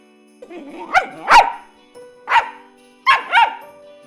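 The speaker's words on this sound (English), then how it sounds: "Dog." Dog barking in sharp, close bursts: a pair of barks, a single bark, then another pair, each loud and clear against a quiet background.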